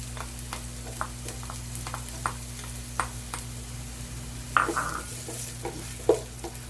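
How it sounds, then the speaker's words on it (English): Onions sautéing in oil in a pan, a low sizzle under a steady hum, with scattered stirring scrapes and utensil clicks against the pan. "We need to caramelize our onions to enhance the flavor, of course."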